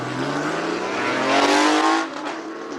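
A Porsche 993 launches hard off the start line at a classic car speed event in Cape Town, its engine roaring loud and close with rising revs that peak briefly before easing off, with no talk.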